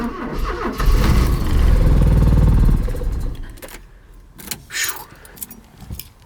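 Porsche 944 engine cranking with a rhythmic starter churn for about three seconds and failing to catch, then dying away into softer clatter and a little handling noise.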